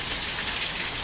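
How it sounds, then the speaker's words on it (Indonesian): Heavy rain pours down steadily during the rainy season, a dense, even hiss of drops striking surfaces with one brief brighter splash, close and constant with no voices. "Hujannya deras sekali."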